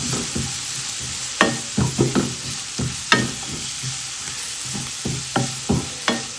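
Food frying in a pan with crushed chilli is stirred with a spoon, giving a series of irregular scraping clacks over a continuous soft sizzle.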